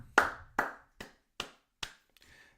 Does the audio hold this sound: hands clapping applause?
yes